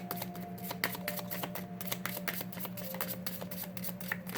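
Tarot cards being shuffled by hand, a steady run of quick papery riffles and flicks up close, with a faint hum underneath and no talking.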